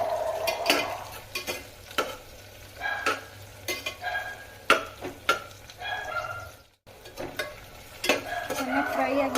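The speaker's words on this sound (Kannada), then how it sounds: "ಬ್ರೌನ್ ಕಲರ್ ಬರಬೇಕು ಅಲ್ಲಿವರೆಗೂ ನಾವು ಇದನ್ನು ಫ್ರೈ ಮಾಡ್ಕೊತಾ ಇರಬೇಕು ಹೈ ಫ್ಲೇಮಲ್ಲಿ ಇಟ್ಟಿದ್ದೀವಿ" Ingredients for palak rice bath fry over a high flame while a spoon stirs them in the pan, giving a steady sizzle with repeated close scraping strokes and short pauses.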